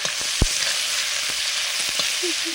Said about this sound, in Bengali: প্রথমে গাজরটা ভেজে নিচ্ছি